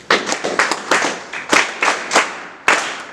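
Audience at a ceremony launching a cyclists' association claps hands in a few separate sharp bursts, then a short run of applause, close and fairly loud, with no talk over it.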